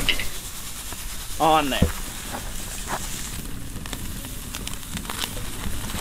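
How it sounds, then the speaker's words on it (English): Flank steak laid onto a camping grill grate starts a steady broad sizzle that runs through the whole stretch, with a brief clatter and a short voice near the start over the continuous frying hiss. "Time to put the meat on the grate. Boom, we got our flank"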